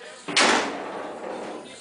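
A new door on a 1957 Chevy stepside truck swings shut with one sharp, solid slam, followed by a short ringing decay.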